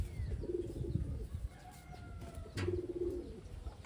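Taiwan pigeons coo softly in short low bursts, two separate murmuring phrases with a gap between them, amid faint background noise.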